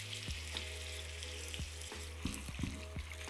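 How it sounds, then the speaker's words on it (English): Ground beef fries in a hot pan over medium-high heat, producing a steady crackling sizzle punctuated by scattered spatula knocks and scrapes as the meat is broken apart. "we're gonna fry the beef"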